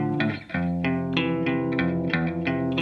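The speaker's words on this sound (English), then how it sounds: "adding some noise and distortion and a bit more width from the chorus." Tonal music processed with chorus, distortion and noise effects: a warm, widened shimmer and gritty distorted edge, plus a faint noise layer, playing steadily with rhythmic note changes.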